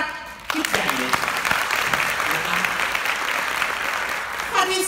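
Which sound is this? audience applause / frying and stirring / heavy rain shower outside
audience applause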